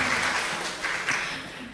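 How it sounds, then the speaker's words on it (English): Applause from an audience in a conference hall after a panel discussion: a brief, dense, steady round of clapping, fairly full, fading slightly toward the end. "I hope you could hear the round of applause right here in the hall"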